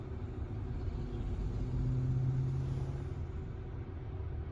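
A FedEx delivery truck drives past on a road, its low engine rumble and tyre noise building steadily and peaking midway before easing off, heard from inside a moving car.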